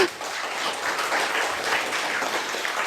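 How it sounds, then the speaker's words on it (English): Audience applause at a student innovation challenge finale in Prague, a steady wash of many hands clapping at moderate volume without voices. "I can predict you get some applause"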